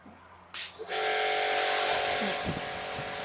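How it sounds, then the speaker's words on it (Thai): A Masaru Sprin24 400-bar pressure washer, spraying water while washing a car wheel, cuts in abruptly with a loud, steady hissing spray that holds to the end, with a few faint knocks underneath. "ฉีดล้างไล่น้ำแบบไล่พวกเศษ สกปรกได้ง่ายๆเลย"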